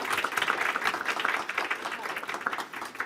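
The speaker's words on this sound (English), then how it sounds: "let's give a round of applause" Audience applause at the close of a talk on digital skills for migrant women, a steady dense patter of many hands clapping throughout, moderately loud and even with no break.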